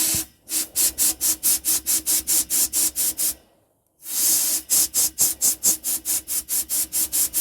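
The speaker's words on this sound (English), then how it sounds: "You'll hear my compressor kicking quickly because it's not man enough for this job." Sandblasting with silicone grit, a fast train of sharp hissing bursts from the blaster and strained air compressor, broken by one short pause before the rhythmic pulses resume, loud and close with no talking.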